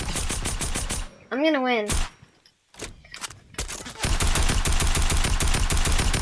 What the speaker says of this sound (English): And you know I'm shooting you to death.